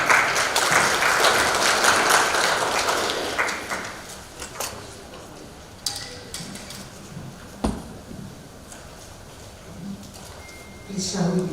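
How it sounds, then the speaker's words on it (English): An audience at a tax and good governance event claps loudly and densely for a few seconds, then the applause thins and fades, leaving scattered claps and a speaking voice. "Please, a round of applause for her."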